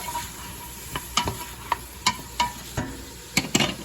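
Vegetables for an 18th-century New England clam chowder sizzle gently in bacon grease while a spoon stirs them, sharp scraping clicks recurring irregularly over a soft frying hiss.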